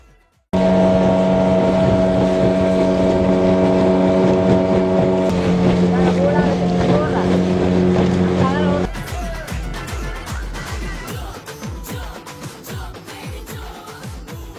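Motorboat crossing the open sea under harsh midday sun, its engine droning loud and steady up close, then the tone shifts to rougher wind and water noise toward the end.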